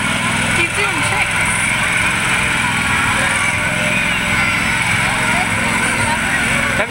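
A riding lawn mower doing spinning tricks in an outdoor Santa Claus parade, its engine droning steadily and fairly close under crowd noise, with voices chatting nearby.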